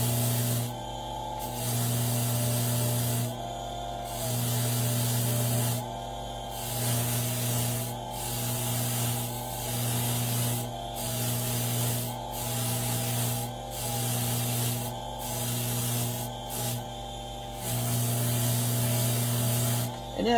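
Motor-driven polishing wheel buffing a piece in a workshop, a continuous loud hum with rubbing hiss rising and falling as the piece is pressed on and eased off repeatedly.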